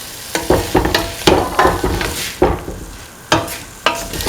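Tomato and pumpkin pieces are stirred in a frying pan, a spoon scraping in quick, uneven strokes over a soft sizzle. The scrapes come close and distinct, with no voices.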